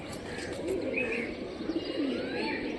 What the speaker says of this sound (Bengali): কবুতরটা দেখি, এটা সবুজ কবুতর।